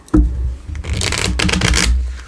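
A deck of tarot cards is shuffled by hand in two batches at a table, giving a close, crisp riffling burst of papery flutters that lasts about two seconds.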